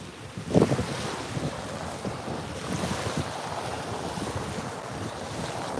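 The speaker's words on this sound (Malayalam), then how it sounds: "ഫിഷിംഗ് ബോട്ട് പോകുന്നു ടൂറിസ്റ്റ് ബോട്ട് പോകുന്നു" Fishing boats and tourist boats pass on the water on an evening at Agathi, a continuous rushing wash of water and wind with a louder swell near the start and no talking.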